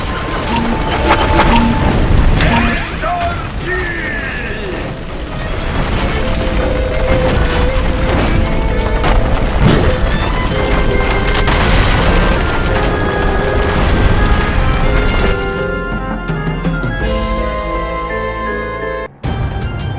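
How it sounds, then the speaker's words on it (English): Booming explosions and crashing debris from falling ceiling beams in the Ben 10 Ultimate Alien Cosmic Destruction video game, a dense, loud, continuous roar of blasts and impacts with game music layered throughout. "Those ceiling beams are about to fall. Explosion!"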